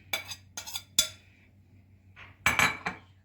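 Chopped tomatoes, onion, carrot and peppers tossed together in a bowl for a fish stuffing, giving a few sharp clinks and scrapes of a utensil against the bowl in short separate bursts, close and fairly loud with quiet gaps between.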